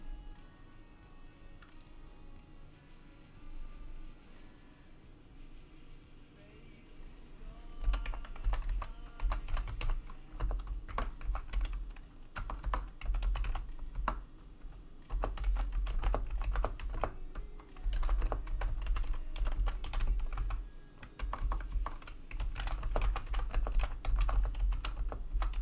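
Rapid keystrokes on an iBuy Power computer keyboard, close and clicky, running in uneven bursts that grow louder and denser after the first several seconds, with no talk over them.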